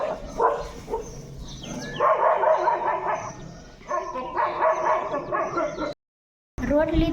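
A village street dog barking in repeated bursts, close and fairly loud, with short yips between, broken by a brief silence near the end.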